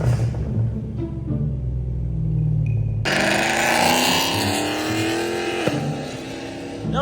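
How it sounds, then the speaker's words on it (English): Loud cars idle with a low rumble, then one suddenly roars into a hard rev that climbs and holds, close and loud. "Loud ass cars, y'all."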